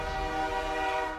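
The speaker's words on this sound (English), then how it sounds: "Yeah, we got hit by a train." A loud, sustained train horn blaring in the Dead Silence video game as a train strikes the players, with a dense rumbling tone running throughout.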